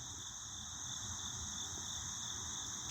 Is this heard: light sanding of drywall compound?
no